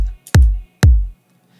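Kick drum from a simple UK dance–style remix, two deep booming hits about half a second apart, each with a long low tail, loud and alone.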